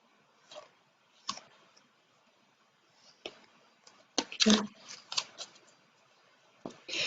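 Tarot cards being shuffled and laid out for a reading, heard as scattered close clicks, flicks and short riffling bursts separated by quiet gaps, one longer shuffle in the middle.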